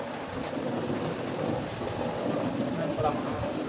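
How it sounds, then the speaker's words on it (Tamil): Heavy rain falls outdoors during a downpour, a dense, steady hiss of drops with low rumbling that fits distant thunder, continuous and fairly loud throughout. "மழை சத்தம் கேட்குதாங்க உங்களுக்கு"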